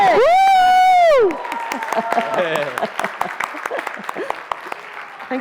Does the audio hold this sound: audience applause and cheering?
yes